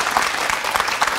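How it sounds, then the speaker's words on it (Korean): A studio audience on a Korean morning talk show applauds to thank a securities firm lecturer after his talk, a dense, steady round of clapping from many hands, loud and close, with no voices on top. "박수로 감사 인사 전하겠습니다"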